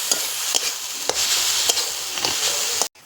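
Papaya and jaggery mixture for laddu stirred in a pan: a steady hiss with regular scraping strokes of the spoon, close and even, ending abruptly.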